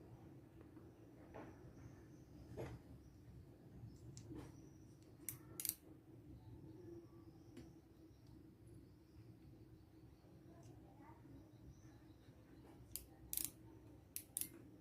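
A micrometer screw gauge ratchet clicks as the spindle is tightened onto a coin, a few faint sharp clicks in short bursts over a quiet background.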